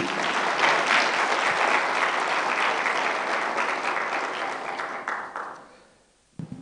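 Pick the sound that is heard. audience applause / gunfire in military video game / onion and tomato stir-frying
audience applause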